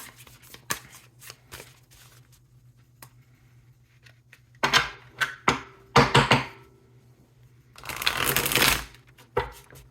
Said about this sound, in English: So we're going to pull one card from here.